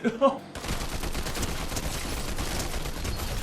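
Dense, continuous gunfire from a Fortnite match, a sustained loud barrage of rapid shots that starts abruptly after a brief opening burst of game sounds.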